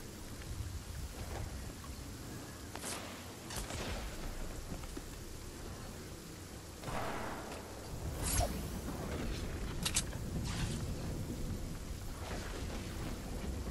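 Fortnite storm rolling in as a steady, rumbling wash of rain-like hiss and low roar, with sharp thunder cracks breaking through near the middle and again shortly after.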